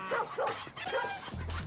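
A dog barks in a quick series of yapping bow-wows, several sharp barks close and fairly faint, with no talk over them.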